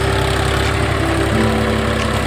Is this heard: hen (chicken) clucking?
no